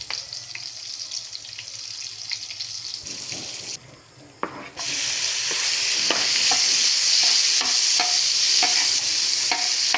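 Garlic dropped into shrimp-flavoured oil sizzles loudly after a brief lull, with stirring clatter and scraping in a pan over steady frying crackle.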